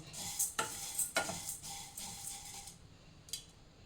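Spices dry-roasting in a pan for sambar powder, stirred with soft scraping strokes and faint sizzling, quiet and close with irregular rhythm.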